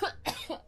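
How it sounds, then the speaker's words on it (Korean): A young woman coughs in short, close, dry bursts, two or three quick hacks in under a second. "세 마디마다 한 번 기침."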